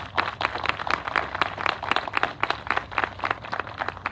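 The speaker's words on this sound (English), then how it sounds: "I want to please give them a round of applause." An audience at a county budget announcement applauds commissioners and department heads, with many hands clapping in a fairly sparse, uneven rhythm and individual claps standing out close by.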